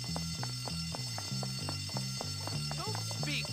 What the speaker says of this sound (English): Everybody trying to run out of a fire alarm.